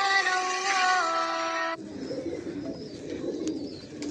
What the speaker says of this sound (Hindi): तीसरा कबूतर फड़ लिया जी